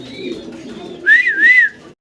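Two soft, rounded cooing calls from a nearby pigeon follow a quiet stretch of low background hum.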